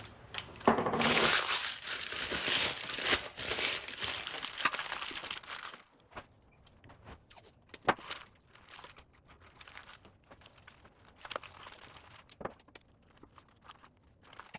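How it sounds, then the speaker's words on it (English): Parchment paper crinkling and crushing over a thrifted pendant light, with painter's tape being applied: dense, close rustling for several seconds, then quieter scattered crackles and tape handling. "So I'm going to just put some parchment paper over it and use some painter's tape to keep it inside."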